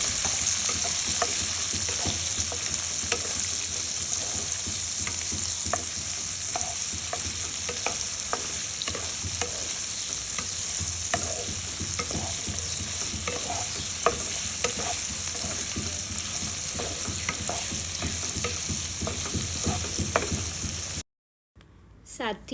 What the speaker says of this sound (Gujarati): કટ કરેલા ભીંડાને એડ કરી લેશું અને સરખી રીતે મિક્સ કરી લેશું.